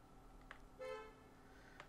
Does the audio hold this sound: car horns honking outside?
yes